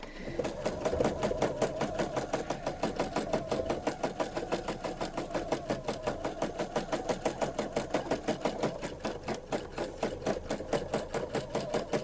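A sewing machine runs steadily for the whole stretch, sewing quilting stitches along the edge of a box frame. The rapid stitching rhythm is even and continuous, close and moderately loud, with no voices.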